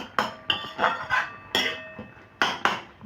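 A ladle presses boiled tomatoes in a metal pan, giving a series of about eight close, ringing metallic clinks and taps in an uneven rhythm with short pauses between.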